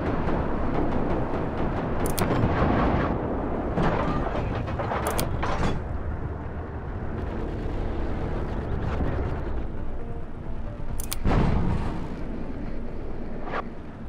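Tank cannon and artillery fire in the Armored Warfare video game, a dense, continuous rumbling battle bed punctuated by a few sharp, loud blasts spread across the scene.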